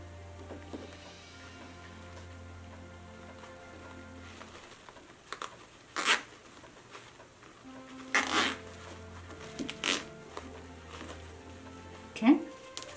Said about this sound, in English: I'll use a zip tie right in the middle to secure it.